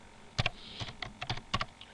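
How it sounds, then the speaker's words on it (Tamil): Someone types on a computer keyboard while working in Photoshop, making an uneven patter of soft clicking keystrokes, quiet and close, with no talking. "நான் அடுத்தது வந்து ஒரு ஸ்டைலை வந்து நான் டைப் பண்ணுறேன்"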